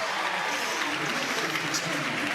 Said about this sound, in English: Getting a big ovation here from the crowd